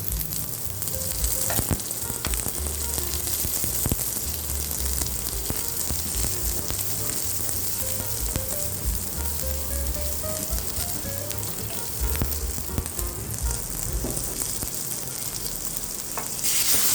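Food sizzles steadily in butter in a hot pan as chana dal is sautéed for fenugreek rasam, with occasional scraping and clinks of stirring, close up and without talking.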